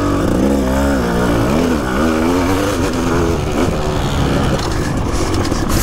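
A rare 1988 Yamaha 500 YZM factory prototype racing motorcycle, its two-stroke 500 engine revving hard and loud up close, the pitch climbing and dropping as the throttle is worked.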